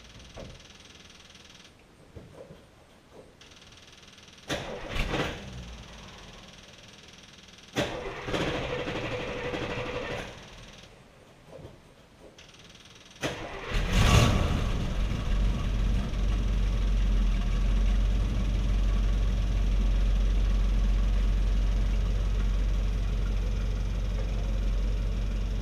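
A 1959 Buick Electra 225 with a 401 Nailhead V8 turns over in several short cranking bursts, then catches with a loud roar and settles into a steady, deep idle rumble.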